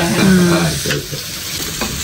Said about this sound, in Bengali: বেগুন ভাজা হবে। বেগুন ভাজা।